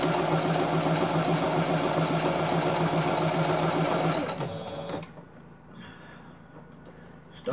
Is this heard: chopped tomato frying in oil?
no